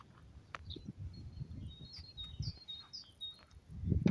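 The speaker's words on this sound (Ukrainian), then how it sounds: "Як гарно співають пташки." Birds sing outdoors on a spring day, short bright chirps repeating at a distance over faint background rustle and a few soft knocks.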